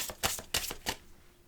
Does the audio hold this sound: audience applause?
no